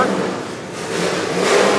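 A NASCAR Xfinity Series race car rolling out of the garage for practice, its engine giving a brief, moderately loud rumble that swells and revs slightly toward the end.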